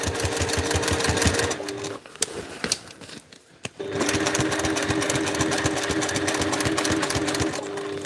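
A sewing machine top-stitches a seam on a cosplay backpack, its fast rhythmic chatter running close and loud, stopping for about two seconds midway with a few handling clicks, then resuming steadily.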